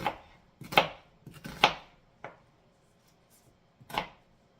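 Knife chopping an onion on a board for Japanese chicken katsu curry, a handful of sharp, close strokes spaced irregularly with short pauses between them.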